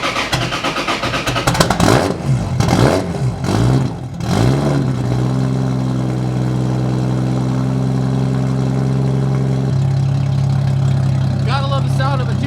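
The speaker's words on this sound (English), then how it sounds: "Gotta love the sound of a 2J, man. Let alone a straight pipe 2J." A straight-piped Toyota 2JZ inline-six, swapped into a Nissan 300ZX, revs loud and close in several sharp blips, then settles into a steady, rumbling idle.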